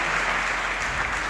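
A church congregation at Sunday worship applauding together, a continuous even wash of clapping that fills the room, with a faint murmur beneath it.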